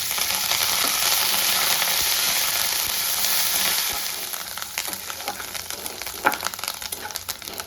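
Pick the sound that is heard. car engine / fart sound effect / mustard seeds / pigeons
mustard seeds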